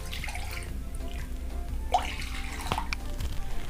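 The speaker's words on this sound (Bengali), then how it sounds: "আমি 2 কাপ জল দেব।" Water poured into a cooking pan for dudh puli, a soft splashing and trickling close by, with a few drips and light clinks over a quiet kitchen background.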